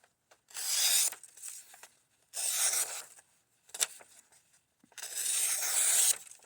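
An S35VN steel Rat 1 knife slices through sheets of copy paper, making three separate rasping, tearing strokes, each about a second long, with quiet pauses between them and no talking.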